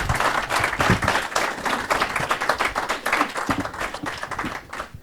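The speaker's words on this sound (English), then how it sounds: "give our speaker a round of applause, please." Audience applause for a visiting climate scientist at a discussion event, many hands clapping in a dense, steady wash that stays loud for several seconds before easing slightly at the end.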